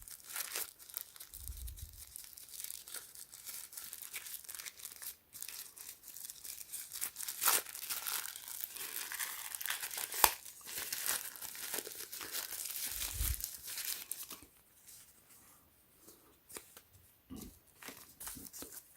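Plastic packaging holding double-sided tape for a KERUI wireless alarm sensor kit crinkles and rustles close up, a long stretch of handling that quiets near the end.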